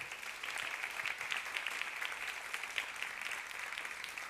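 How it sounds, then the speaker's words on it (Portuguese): A church congregation applauding during a worship service, a soft, distant wash of many hands clapping at a steady, even level with no voices on top. "Você pode aplaudir ao Senhor?"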